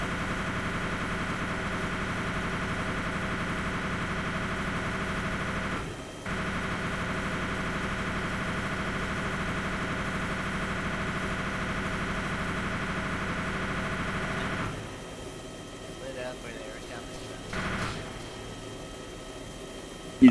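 A vehicle engine in Arma 2 DayZ Overpoch runs with a steady, droning hum that is about to give out. It continues almost unbroken for around fifteen seconds, then drops lower and rougher near the end.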